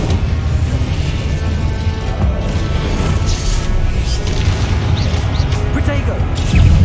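Incendio fire spell cast in Hogwarts Legacy amid ongoing battle, a sustained loud roaring rumble with repeated booms and crackling bursts, swelling again at the very end.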